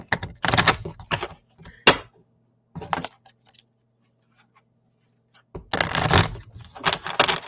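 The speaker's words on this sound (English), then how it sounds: "Shuffle, shuffle, shuffle." Cards are shuffled in several quick riffling bursts, separated by short pauses, close and crisp.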